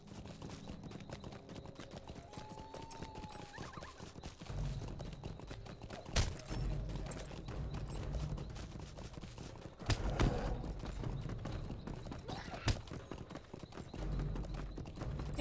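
Hooves of a horse in a video game clip-clop steadily throughout, with occasional louder clanks and thumps over a low game ambience.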